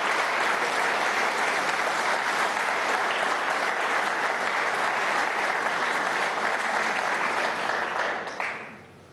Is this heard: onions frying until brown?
no